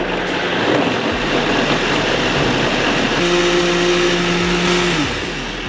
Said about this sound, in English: Then you proceed to blend together.